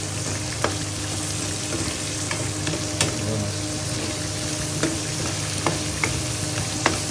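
Garlic and onion sauté with pork in a pan, a steady close sizzle broken by sharp, regular clicks of a utensil stirring against the metal; no talking.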